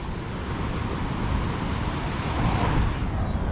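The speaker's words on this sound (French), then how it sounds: "Oh les vagues de fou qu'il y a par contre." Surf breaks on a shore in Mauritius as a steady, loud, broadband roar with wind buffeting the microphone and no voices.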